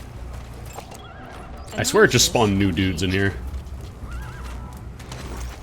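A horse whinnies inside a video game during a shootout, a loud rising-and-falling neigh over a couple of seconds in the middle, with clip-clop and game noise around it and someone talking over the scene.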